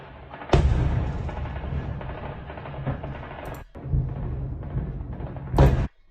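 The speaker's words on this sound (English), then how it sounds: "Ukrainian soldiers used the automatic rifles, and also there were some booms" Fighting near the Dnieper River in Ukraine, with Ukrainian soldiers firing automatic rifles amid booms: a dense, continuous crackling roar of gunfire, punctuated by two loud, sharp blasts near the start and end, with no voices.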